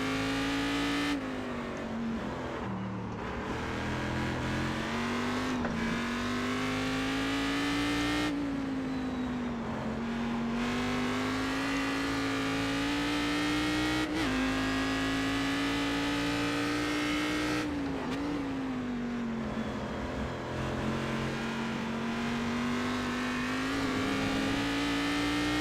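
Race car engine in the iRacing simulator, a continuous loud drone that climbs and dips in pitch through repeated revving and gear changes over about half a minute, with no voices.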